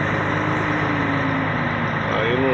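Heavy truck engines idle and rumble steadily at an ArcelorMittal steel unit in Eunápolis, a loud continuous drone with faint tonal whines near the end.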